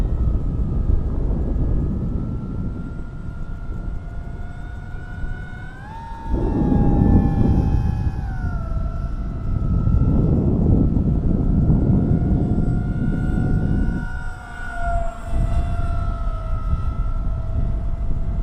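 An RC foam MiG-29 model jet with quad motors flies overhead, its electric whine rising and falling in pitch as it passes and banks, with steady airflow rushing between passes.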